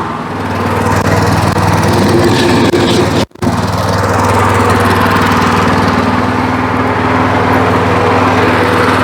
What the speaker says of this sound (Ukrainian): я вижимаю щеплення, вмикаю першу швидкість на себе і починаю рухатись